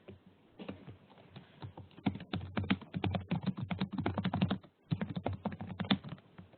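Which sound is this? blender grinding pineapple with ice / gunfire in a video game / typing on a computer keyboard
typing on a computer keyboard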